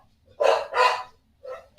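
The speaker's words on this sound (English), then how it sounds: "And our dogs are barking." Household dogs bark indoors: two sharp, fairly close barks in quick succession, then a softer third yip after a short pause.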